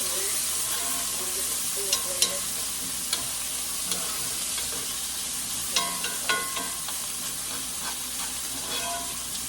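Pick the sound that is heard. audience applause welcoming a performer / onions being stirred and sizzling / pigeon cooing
onions being stirred and sizzling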